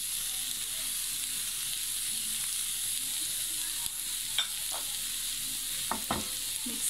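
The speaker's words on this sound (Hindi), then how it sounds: "बस थोड़ा सा इसको मिक्स करेंगे हम, ये चीज़ भी थोड़ी सी मेल्ट हो जाए" Chicken pizza paratha filling with grated cheddar stirred in a hot pan, giving a steady close sizzle throughout, with a few soft spatula scrapes toward the end and no talking.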